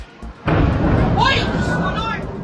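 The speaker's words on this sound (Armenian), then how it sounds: "Ամբողջ գիշեր պայթյուններ են հնչել Թել Ավիվի տարածքում" Explosions ring out over Tel Aviv during an Iranian missile attack: a sudden loud boom sets off a heavy, sustained rumble that fills the rest of the moment, with voices faintly present.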